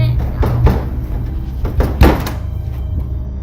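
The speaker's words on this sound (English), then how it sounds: "He hears a sudden, loud banging sound on the basement door" Loud banging sounds on a basement door, with a few heavy irregular thuds over a low rumbling background, close and forceful.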